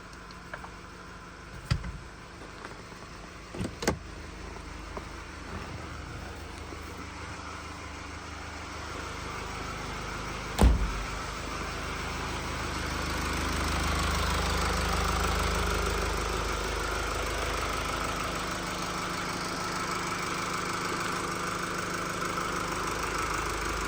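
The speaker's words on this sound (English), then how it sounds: "right now I'm going to start the vehicle again. I'm going to let it warm for a while" A Mercedes-Benz E220d W213 diesel engine starts and idles steadily for the whole stretch, a low continuous rumble with a few sharp clicks and knocks near the start.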